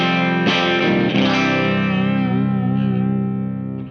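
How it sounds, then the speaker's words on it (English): Squier Jazzmaster electric guitar tuned low to C standard, fitted with a Tough Set bridge: a few strummed chords ring out loud and full, then sustain and slowly fade, played alone. "So this is my Squier Jazzmaster Jazzmaster with the Tough Set bridge"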